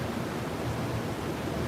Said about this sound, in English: Got a waterfall in there.